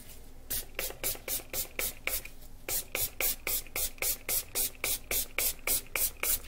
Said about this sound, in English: And I'm going to spray it.